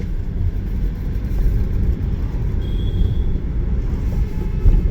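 A car driving fast on a highway at night, with a steady, loud low rumble of engine and road noise throughout and no breaks.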